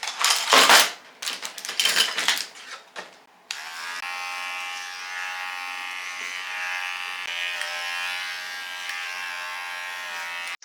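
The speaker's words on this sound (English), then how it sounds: "I am using a pet shaver for most of the body" Bursts of rustling and clatter from handling the plush jackalope give way to a pet shaver buzzing steadily and close as it trims fluffy fur, a constant electric hum running for several seconds.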